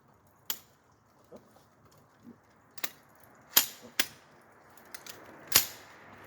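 Single rifle shots from a match grade trigger fired by feathering, about six sharp cracks spread unevenly across the stretch with quiet gaps between, fairly loud and close with no talk.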